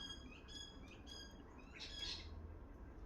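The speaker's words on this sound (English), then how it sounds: "The birds are into it." Faint birds chirp in the distance, a few thin repeated tweets and a brief squawk over a low, steady outdoor background hum.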